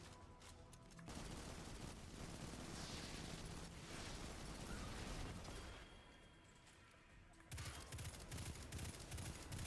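The Gnawing Hunger auto rifle fires in Destiny, in the Perdition Lost Sector. Dense rapid-fire bursts run almost continuously, with a short pause around six to seven seconds before the shooting resumes.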